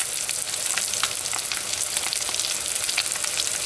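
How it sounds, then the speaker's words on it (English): Chopped Spam sizzling in a hot pan for fried rice, a loud steady crackle of frying fat with bright popping spatters, close and continuous with no voices. "So you just let that fry up for a little bit."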